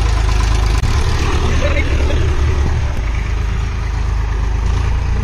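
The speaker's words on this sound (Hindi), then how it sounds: "पिताजी हैं और ट्रैक्टर चलाना खेत जोत रहे हैं।" Tractor ploughing a farm field, a steady low engine drone running throughout with someone talking over it outdoors.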